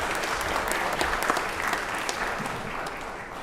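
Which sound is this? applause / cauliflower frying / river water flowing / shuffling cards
applause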